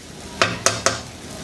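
Okra and egg fry in a wok under a steady close sizzle, with three sharp scraping stirs of a spatula spaced evenly a quarter-second apart.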